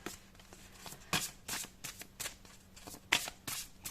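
Large fortune-telling cards shuffled by hand during a tarot horoscope reading, with a run of crisp riffling and slapping bursts in an irregular rhythm, close and fairly quiet, with no talking.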